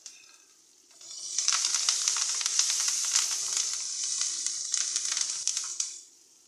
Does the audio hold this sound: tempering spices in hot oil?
yes